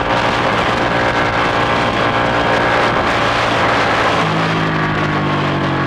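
Ducati 1199 Panigale motorcycle engine while riding: a loud, steady roar with heavy wind rush throughout, and the pitch shifting slightly near the end.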